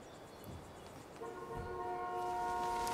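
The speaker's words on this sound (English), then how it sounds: "Solid honk." A truck horn in the video game Life is Strange: Before the Storm sounds a sustained, steady honk that starts partway through and holds loud to the end, over a low background rumble.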